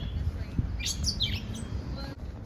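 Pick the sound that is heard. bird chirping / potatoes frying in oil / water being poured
bird chirping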